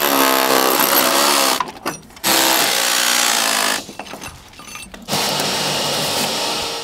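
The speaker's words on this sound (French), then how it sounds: "Sors les anciens, par exemple, avec un marteau perforateur." A hammer drill knocks old ball bearings out of a roller shutter box during renovation, a loud, steady buzzing hammering in three long bursts separated by brief pauses, close and alone.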